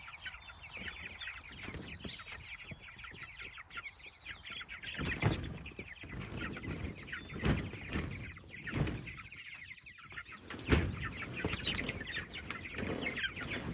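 Meat chickens cluck and squawk in a busy chorus while being moved, with bursts of wing flapping and scuffling between the calls, fairly close.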